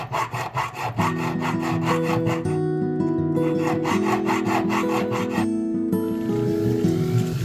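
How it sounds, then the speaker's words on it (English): Steady back-and-forth rasping strokes of a file on a gold ring's metal screw, repeating in a quick even rhythm, with music playing underneath. "So just filing the screw away"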